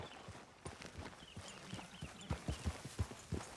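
Horse hooves clip-clopping at a steady walking pace in the video game Red Dead Redemption 2, a quiet, even rhythm of soft thuds with no other sounds.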